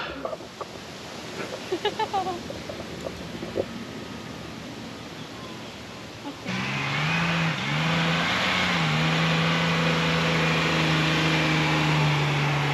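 A 4WD car drives along a soft sand track on North Stradbroke Island, its engine note swelling suddenly into a loud, sustained drone with rising revs after a quieter stretch of outdoor noise, close and steady.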